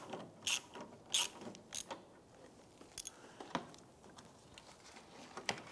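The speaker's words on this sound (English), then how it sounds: "we're going to use our 10mm socket, swivel and extensions, and loosen the nut from this side here" Ratchet with a 10mm socket on a swivel and extensions loosening a fog light nut on a 2005-2007 Ford Five Hundred: quiet, irregular bursts of clicking ratchet strokes, close and faint, with no talk.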